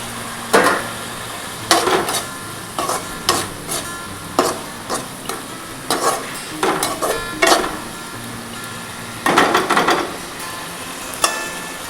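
Tomatoes being stirred in a frying pan while cooking egg curry, with repeated scraping and clinking strokes of a spatula against the pan every second or so, close and moderately loud, under a faint sizzle.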